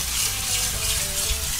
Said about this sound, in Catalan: Aleshores jo la posaré en aigua freda.